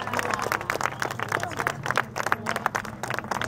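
Crowd applause for a radio announcer during a 2015 Argentine cycling crossing event, steady dense clapping from a sizable group, moderately loud with some voices mixed in.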